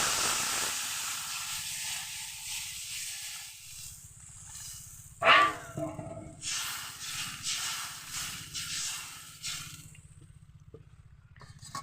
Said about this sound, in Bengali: এবার এই তেলটার মধ্যে আমি জল দিই